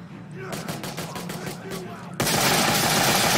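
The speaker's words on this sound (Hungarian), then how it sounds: "Hagyd már abban a lövöldözést!" Rapid gunfire in the zombie game Dead Rising 4 rattles out as a fast string of loud repeated shots, then gives way to a dense, sustained roar of noise.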